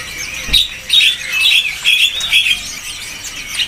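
Young Java sparrows (gelatik batu) chirping and squawking at a busy bird market, a run of bright, fairly close calls in quick bursts over a low market background.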